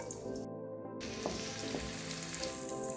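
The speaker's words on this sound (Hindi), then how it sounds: "अब हम इसमें प्याज डाल देते हैं, इसको हम थोड़ा फ्राई करेंगे" Onions frying in hot oil give a continuous close sizzle with a few soft crackles through a short stretch.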